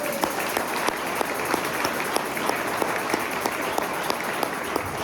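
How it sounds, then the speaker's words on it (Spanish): A church congregation applauds steadily, a dense, even patter of many hands clapping for several seconds from a moderate distance, with no voices over it. "Denle palmas al Rey, hermanos."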